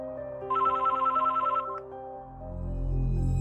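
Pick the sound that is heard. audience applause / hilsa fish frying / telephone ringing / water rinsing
telephone ringing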